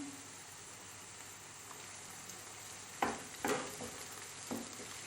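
Tomato paste sautéing in a pan gives a steady soft sizzle with a few louder stirring scrapes and clatters near the end, close up and with no talk.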